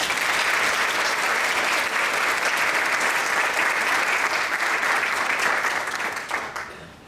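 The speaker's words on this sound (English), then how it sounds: "Let's give one more round of applause to these students." An awards-ceremony audience gives a round of applause for students, a dense, steady wash of many hands clapping that holds evenly for several seconds before tapering off at the end.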